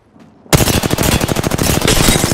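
Rapid automatic gunfire in a battle royale video game starts abruptly after a quiet moment and continues as a loud, dense burst of shots, close up, with no voices.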